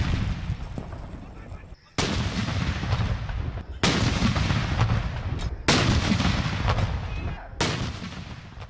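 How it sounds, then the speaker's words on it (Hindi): Cannon fire for an Independence Day 21-gun salute in a provincial capital, heavy booming blasts about every two seconds, four to five loud shots each rolling off in a long echoing decay. "सबकी सूबाई दारुल-हुकूमतों में 21-21 तोपों की सलामी दी गई"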